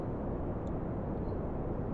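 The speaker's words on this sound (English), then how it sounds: "Ignition on the second stage. Second stage engine powering up." Second stage rocket engine in Kerbal Space Program, a steady broadband roar with a deep rumbling low end, constant in level and without breaks.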